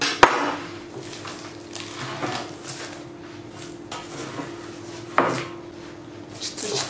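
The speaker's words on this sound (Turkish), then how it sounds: "Fırın tepsisini çıkartayım." A metal baking tray slides out of a home oven holding Turkish breakfast çörek, with a sharp metallic clank at the start and another at about five seconds, and faint scraping and rattling in between.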